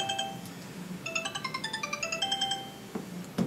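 A phone ringing in a recording studio, playing a quiet electronic melody of short beeping tones in a steady rhythm for about two seconds before it stops.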